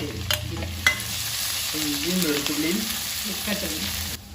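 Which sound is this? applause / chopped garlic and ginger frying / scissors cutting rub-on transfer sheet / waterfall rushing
chopped garlic and ginger frying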